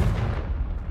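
A Confringo blast spell explodes in Hogwarts Legacy, a heavy, booming low-end burst that rumbles continuously through the short moment without any talking.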